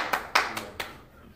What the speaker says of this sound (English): So we're gonna clap.